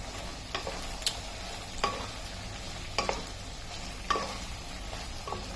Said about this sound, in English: you have to mix this gravy really well